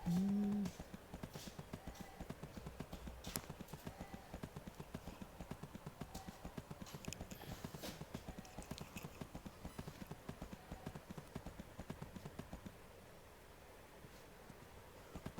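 Horse hooves gallop in the Free Fire video game, a steady rapid clip-clop running almost the whole way, close and fairly loud under talking.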